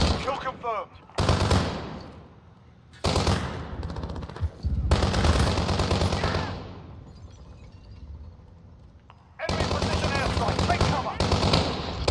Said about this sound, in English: Okay, I just shot four bullets right at him.